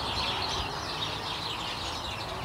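A dense, continuous chatter of many house sparrows calling together, busy and overlapping, fairly close with no pauses.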